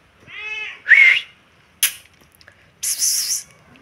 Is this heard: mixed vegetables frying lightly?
no